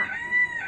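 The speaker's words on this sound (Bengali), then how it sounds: "আর আরেক দিকে আমাদের মাশাআল্লাহ আমাদের বড় মোরগটা ডাকছে।" A large rooster crows on a rooftop garden, one loud sustained close call heard alone with no talk over it.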